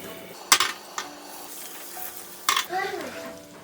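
A pot clinks and scrapes a couple of times, then a soft sizzle rises as a tablespoon of butter melts and starts to fry in the pot.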